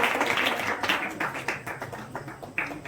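A school audience at a Children's Day celebration claps for a class 6 prize winner, a loud burst of hand clapping that fades slightly over a few seconds.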